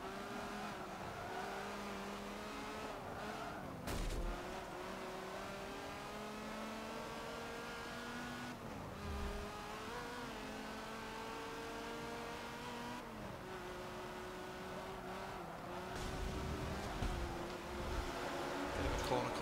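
A Sport GT race car in Forza Motorsport 7 sweeps through a corner, its engine holding a steady high whine with gear-change dips and brief lifts, then rising again toward the end, under a faint voice talking.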